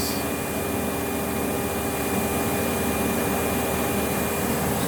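An Advance Spectrum 12P vacuum runs at full power through an airflow test, a loud, steady broadband roar with a faint whine, unbroken and close for the whole stretch.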